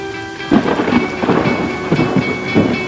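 Steady rain pours down while low rumbles of thunder roll through in several heavy bursts.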